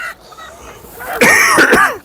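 A harsh, raspy cough close by from someone who is ill, in two rough bursts after a brief quiet breath, at a chicken market in Istanbul.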